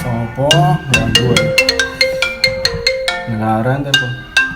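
A mobile phone ringtone plays a bright, repeating melodic pattern, close and clear, in a short domestic scene with a voice mixed in.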